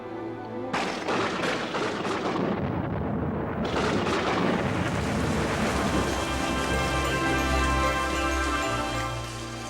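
Heavy rain roars steadily while thunder rumbles and cracks, with a sharp close strike early on and deep rolling booms that linger underneath.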